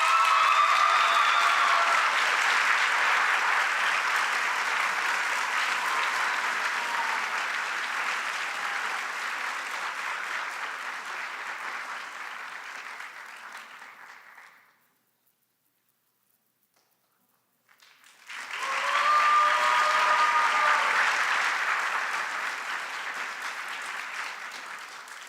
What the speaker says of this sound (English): please give a well-deserved round of applause to Lennon Lisk